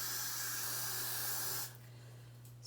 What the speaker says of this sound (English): So I like to put that on and then put the freeze spray